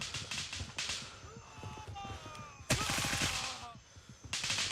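Rapid gunfire crackles through a video game firefight in Gray Zone Warfare, with a sharp, loud hip-fire shot standing out among repeated bursts and clattering impacts, all closely spaced and intense.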